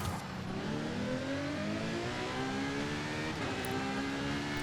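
Ferrari FXX K Evo race car engine in Forza Horizon 5 revving hard and climbing through the gears, a loud continuous rising roar heard close and alone.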